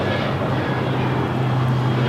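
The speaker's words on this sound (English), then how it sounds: "That was Alaska Airlines 1342 taking off to Los Cabos on the 737-800." Alaska Airlines Boeing 737-800 taking off from LAX, a loud steady jet roar with a low rumble filling the whole stretch, no voices over it.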